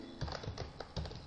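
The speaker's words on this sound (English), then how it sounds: "Here I am typing" Quiet clicking taps of a computer keyboard being typed on, an uneven run of close keystrokes with no speech.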